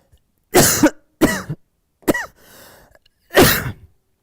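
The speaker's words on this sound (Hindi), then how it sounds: "क्या हो गया, खांसी का हो रहा है रे भाई" A person coughs in several separate harsh bursts, with a short raspy breath between them, close to the mic and with no talking.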